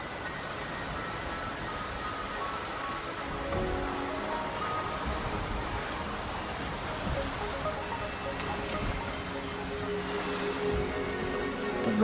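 Steady, even wash of rain falling in the game Wuthering Waves, a dense broadband patter holding at a constant moderate level throughout with no distinct voices over it.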